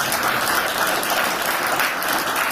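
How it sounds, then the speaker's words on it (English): Audience applause at a coalition address, dense steady clapping from a crowd filling the whole stretch, loud and close, with no voices over it. "Let's give them a round of applause for the 2 that are here"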